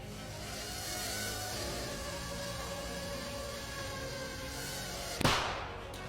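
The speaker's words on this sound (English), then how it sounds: "That little bang is enough to penetrate the skull and destroy the contents." A tiny shaped explosive charge of 3 grams detonates with one sharp, loud bang near the end, cutting through steady background noise that rumbles like a passing vehicle.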